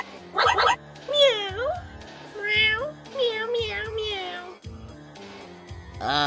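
Several drawn-out, pitch-bending meows from a cat nearby, a few of them loud and wailing, with a person speaking in between.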